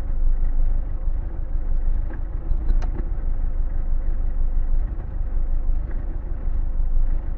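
A car engine idling during warmup enrichment tuning on a VEMS engine management system, a steady low rumbling idle with a faint uneven pulse and a few light ticks, no voices.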